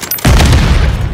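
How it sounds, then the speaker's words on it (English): Gunfire in a military video game starts with a sudden loud blast and a rumbling, sustained roar that follows at close range. "Taking effective fire!"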